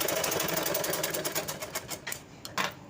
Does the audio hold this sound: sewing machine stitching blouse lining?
yes